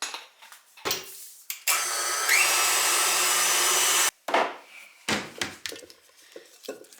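An electric mixer whirs steadily for a couple of seconds, beating cream cheese frosting with powdered sugar, vanilla and cinnamon, between short bursts of clatter and kitchen handling.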